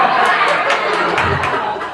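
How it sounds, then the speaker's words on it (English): Comedy club audience reacting with a steady wash of crowd noise, scattered cheers and chatter, dense and continuous for two seconds without clear individual claps. "I'm getting some applause."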